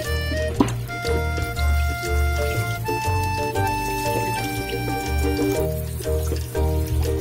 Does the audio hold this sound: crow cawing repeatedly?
no